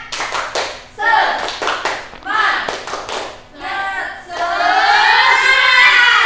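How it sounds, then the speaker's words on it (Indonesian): A classroom of schoolchildren performs a rhythmic spirit-clap chant, bursts of sharp unison claps in patterned groups alternating with chanted voices, ending in a sustained shout, loud and close. "Coba cek dulu pakai tepuk semangat."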